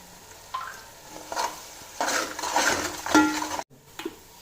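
Onion frying in a pan with a little salt added, giving a steady close sizzle broken by several stirring scrapes and clinks of a utensil against the pan, with a brief quiet gap near the end.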